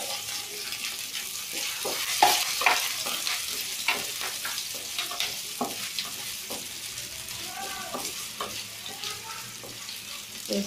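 Chopped potatoes and green chillies fry in a pan for sabudana khichdi, with a steady sizzle broken by repeated close scraping and clinking as a utensil stirs them, loud throughout and without speech.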